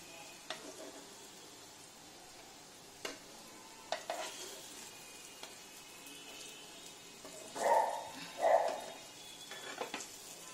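Banana flower kofta fry in hot oil with a faint, continuous sizzle, broken by scattered clicks and a couple of louder bursts of bubbling spatter late on, with no voices.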